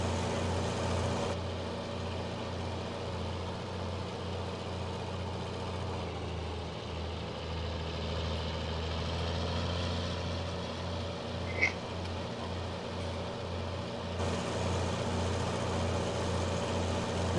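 A tractor engine in Farming Simulator 19 runs steadily for the whole stretch, a low continuous drone with one brief sharp blip midway and no speech.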